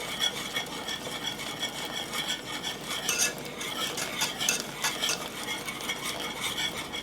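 A thickening flour mixture for a lemon soufflé being stirred in a pan, giving a close, rhythmic scraping and swishing of a utensil against the pan bottom that repeats steadily, with no talk.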